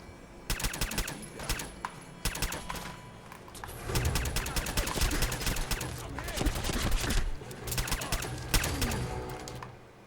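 Rapid gunfire from the video game Fallout 4 rattles in dense automatic bursts, a loud continuous volley of sharp shots that runs almost unbroken through the whole stretch.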